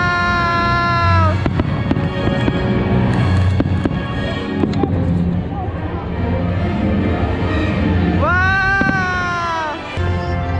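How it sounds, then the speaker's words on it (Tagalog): Fireworks at Tokyo Disneyland pop and rumble at moderate distance under steady background music with a sung melody, while nearby people chat and exclaim. "After this, we will watch the fireworks."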